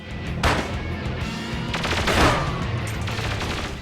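A jetpack enemy fires big machine guns in the video game Perfect Dark Zero. Loud bursts of automatic fire and explosions fill the few seconds.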